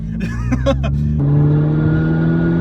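A car accelerating hard nearby, its engine note climbing through gears with a sharp shift then a sustained rising drone, loud and close as voices chatter briefly at the start.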